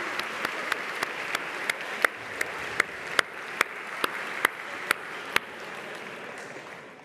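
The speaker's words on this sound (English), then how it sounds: "Let's also give Michael a huge round of applause" An audience applauds at a closing ceremony, steady clapping over a hall's ambience, with louder single claps standing out near the front.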